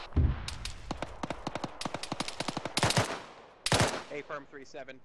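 Gunfire in Arma 3, a burst of rapid shots followed by two heavier, louder reports, with a radio-style voice talking over part of it.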